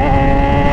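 Kawasaki ZX6R sport motorcycle engine roaring loud and steady at close range with heavy wind rush, a brief burst as the rider downshifts to overtake on a dry road.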